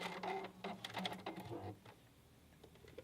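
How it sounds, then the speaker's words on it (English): Sewing machine stitching a narrow zigzag on a knit sleeve band, a quick burst of rapid mechanical stitching at close range that stops after about two seconds, leaving quiet. "I'm just going to stitch over them a little bit so I don't have to back stitch"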